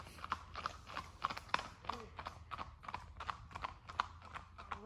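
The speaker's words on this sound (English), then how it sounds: "we got greeted by 2 more horses" Horses walk along a trail in Dajti Mountain Nature Park near Tirana, Albania, their hooves clip-clopping in a steady, uneven rhythm at moderate distance.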